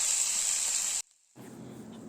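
Amroli ant eggs frying in a pan give a steady close hiss and sizzle that cuts off abruptly, then resumes more softly after a brief pause.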